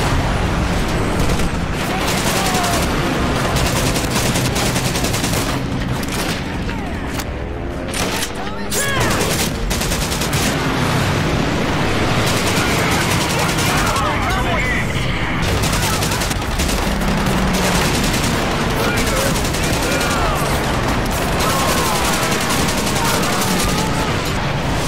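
Mounted machine gun turret firing nonstop in Medal of Honor: Pacific Assault, a loud, dense rattle of automatic fire mixed with booms and explosions throughout, with a voice talking over the battle.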